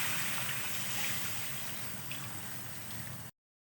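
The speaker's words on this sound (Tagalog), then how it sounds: "Lagyan natin ng tubig." Water is poured into a pot of chicken curry during cooking, making a steady close trickling, gurgling pour that cuts off abruptly near the end.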